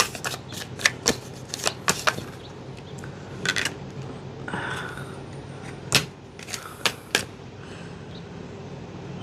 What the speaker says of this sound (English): I'm going to use my African American tarot cards here.